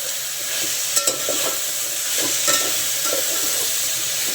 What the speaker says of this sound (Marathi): त्या सगळ्या भाज्यांना व्यवस्थित परतून घ्यायचं, शिजून द्यायचं थोडं 5 मिनिटं परतायचं।